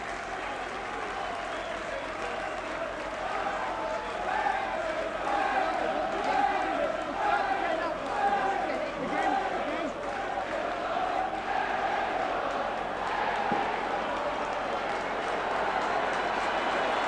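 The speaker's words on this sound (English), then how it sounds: "Rapturous applause from the Wigan supporters for Steve Ella and also for Colin Whitfield" Wigan rugby league supporters at the 1985–86 Lancashire Cup Final against Warrington roar and applaud after Steve Ella's try, a sustained, rumbling crowd din that stays loud and unbroken throughout.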